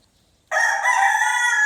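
A rooster crowing loudly and close by, one strong cock-a-doodle-doo starting abruptly after a brief silence and holding on without any talk.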